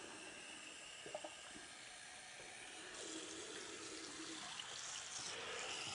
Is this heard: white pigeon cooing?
no